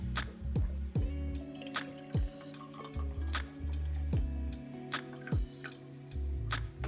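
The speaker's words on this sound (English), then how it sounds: "Now you pour this into a glass." Liquid glugs and splashes into a glass in a series of short pours with dripping between them, close and fairly loud aboard a sailboat, no talking.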